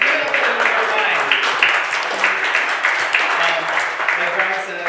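A comedy club audience applauds the night's comedians with steady, sustained clapping, fairly loud and close, with faint voices mixed in.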